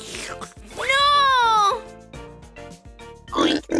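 A cartoon voice imitates a pig's oinking in a Spanish-language children's song: a drawn-out, squealing oink followed by shorter snorting grunts, close and bright, amid playful vocal sounds.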